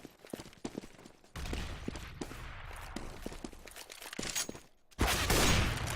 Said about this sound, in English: nice frag from Freeze. He takes out that Scar 20